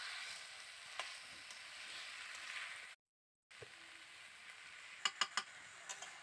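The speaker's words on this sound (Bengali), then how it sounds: "তো সুন্দর করে নেড়ে চুড়ে কষিয়ে নিচ্ছি।" Ivy gourd greens stir-fried with spices hiss quietly in a pan, broken by a brief silent gap, then a few sharp metallic taps of the spoon against the pan near the end; no talking.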